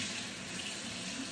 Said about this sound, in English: grab a kitchen towel, get that wet, using hot or warm water